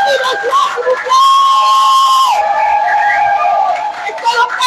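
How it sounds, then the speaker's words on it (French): A crowd at a ceremony cheering loudly, with shouts and whoops that swell in the middle and carry on as a continuous roar to the end, and a loud ringing tone running through it. "je souhaiterais que vous acclamez encore très très très fort"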